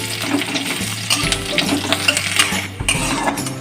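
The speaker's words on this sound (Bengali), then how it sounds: "কড়াইতে দিয়েছি সর্ষের তেল, তেলটা গরম হয়ে গেছে। এর উপরে দিয়ে দেবো পেঁয়াজ কুচি।" Chopped onion frying in hot mustard oil in a wok, with a crackling sizzle under repeated metallic clinks and scrapes of a spatula against the pan.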